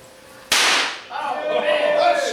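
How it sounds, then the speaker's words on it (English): A firecracker explodes with a single sharp, loud bang at a nightclub-style party show, followed by a burst of crowd noise and cheering that swells after the blast. "Now here's the last firecracker."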